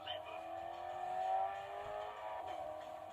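A tuned V8 car engine hums and slowly rises in pitch as it revs with the exhaust fully open, a smooth steady drone with a faint voice underneath.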